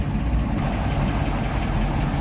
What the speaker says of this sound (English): Nice little rumble coming out of that 409.